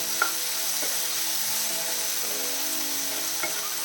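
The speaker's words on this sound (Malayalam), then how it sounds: "നമുക്ക് ഈ ശകലം ഉപ്പും കൂടെ ചേർത്ത് കൊടുക്കാം. നല്ല രീതിയിൽ വഴറ്റാം കേട്ടോ." Tomatoes sautéing in oil with salt give off a steady, fairly quiet sizzle, with a few light clinks as they are stirred in the pan.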